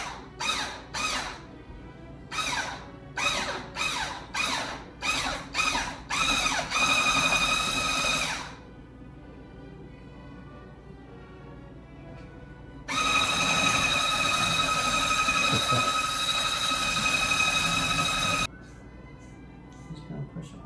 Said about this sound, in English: Now I'm just gonna very, very gently start to whisk this together.